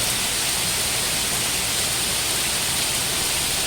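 Heavy rain pours down in a dense, unbroken hiss, loud and even throughout with no voices over it.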